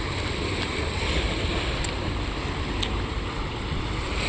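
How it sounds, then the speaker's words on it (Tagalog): Strong sea waves at Batangas shore on a rainy, stormy day, a loud continuous roar of surf mixed with heavy wind buffeting the microphone, no speech. "Malakas ang alon."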